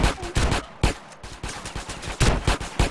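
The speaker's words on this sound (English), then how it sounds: "Who's shooting me?" Game gunfire in GTA San Andreas, rapid loud bursts of shots in quick succession with brief gaps, close and dense throughout.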